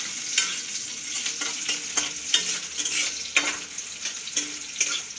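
Egg and potato fry in a pan with a bright, crackling sizzle, broken by repeated scrapes and knocks of a spatula stirring. The sounds are close and come in irregular bursts, with no voices.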